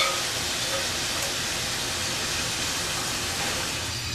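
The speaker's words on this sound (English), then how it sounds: "While my shrimp is frying," Shrimp frying in oil for a salt-and-pepper shrimp dish with lime juice, a steady, loud broadband sizzle and hiss running unbroken for the whole stretch with no talking.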